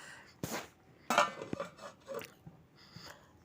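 A metal lid is set onto a pot of simmering coconut milk fish curry, giving a few close clinks and clatters of metal on metal spread over a few seconds, with no talk.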